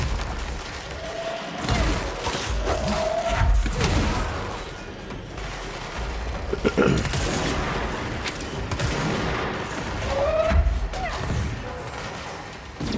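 Sniper gunfire rings out in the video game Control, several heavy shots and impacts scattered through a loud, busy stretch of combat, with a voice occasionally speaking over the action.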